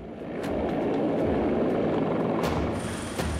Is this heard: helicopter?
yes